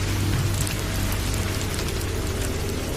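Steady rain falling on a paddy field at night, a dense, even hiss with a low rumble underneath, unbroken for the whole stretch.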